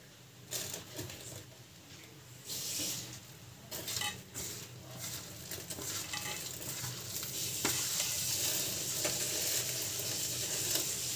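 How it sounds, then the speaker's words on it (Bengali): Besan fritters fry in hot oil in a home kitchen, with a constant bubbling sizzle and occasional scraping stirs and clinks of a utensil against the pan. No one speaks. "তেল দিয়ে দিয়েছি, বড়গুলো ভেজে নেব।"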